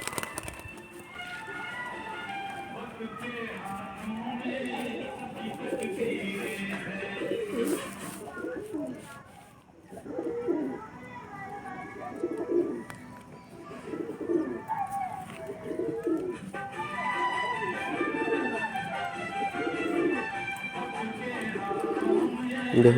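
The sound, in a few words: pigeon cooing while being caught for hand feeding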